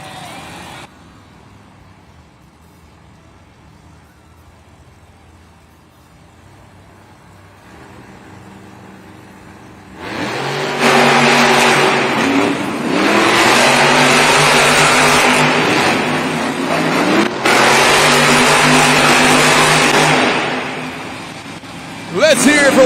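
The Gravedigger monster truck revs its engine in a Monster Jam arena show in Newark, NJ. After a quiet opening, it roars up at about ten seconds into loud, sustained revving with rising and falling pitch over a crowd-filled arena.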